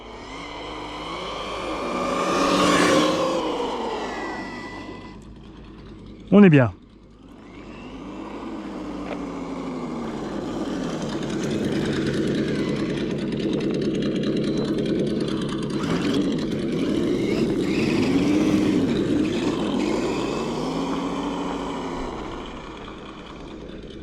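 A Kyosho USA-1 RC monster truck with its stock 2400 kV motor on a 4S battery drives with an electric whine that rises and falls, broken by one sharp short burst partway through; someone speaks briefly.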